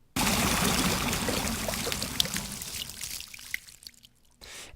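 A Payday 2 game character sloshes out of water onto the shore, a loud rushing pour of water with dripping that thins to scattered drips and a faint trickle.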